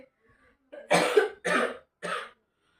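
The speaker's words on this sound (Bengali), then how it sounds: "সরি বন্ধুরা, একটু কাশি পাচ্ছে" A woman coughs three times in quick succession, close and fairly loud, each cough a short harsh burst with brief pauses between, from an irritated, tickly throat.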